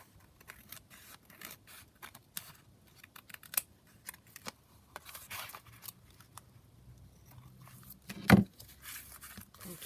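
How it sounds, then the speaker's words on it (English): Scissors cutting and trimming paper for a junk journal pocket, with quiet, scattered snips and crisp little rustles spread unevenly, plus one louder thump near the end. Nobody speaks. "I'm just going to cut that down like that, and then we'll just trim it down on the side as well."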